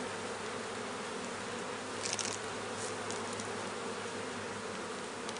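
Bees hum in a dense, steady drone at an open Langstroth hive, a continuous swarm buzz that is close and even throughout, with a few sharper buzzes from individual bees passing nearby.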